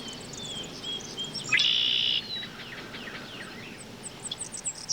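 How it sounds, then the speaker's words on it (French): A songbird sings outdoors in a calm spot, with a bright sustained whistle in the middle and softer chirps scattered around it, mixed with a faint insect-like background hum. "Il chante bien, cet oiseau, non?"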